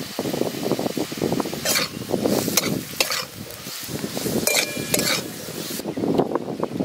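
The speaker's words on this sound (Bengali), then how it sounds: "পোস্ত দিয়ে আলু ভাজা" Potatoes frying with poppy seeds in mustard oil, a steady close sizzle with repeated stirring scrapes and a brief clink of utensils throughout.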